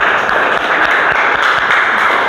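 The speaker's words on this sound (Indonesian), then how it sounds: "Tepuk tangan untuk kelompok 2." Students applauding a group's classroom presentation, a dense, steady wash of many hands clapping at once, close and loud throughout.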